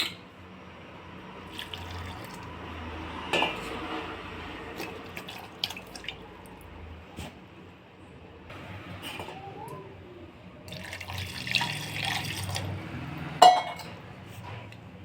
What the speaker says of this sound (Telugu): చింతపండు ఇలా తీసుకొని వాష్ చేసి నానబెట్టాలండి.